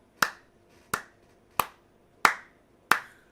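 A single person claps slowly in tribute while seated: five sharp, evenly spaced claps, about two-thirds of a second apart, close and crisp, with no voices around them.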